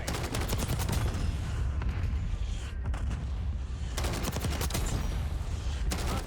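CR-56 AMAX assault rifle gunfire in Black Ops 6 comes as rapid, loud bursts of sharp cracks that repeat through the clip, with a short lull before the shooting resumes.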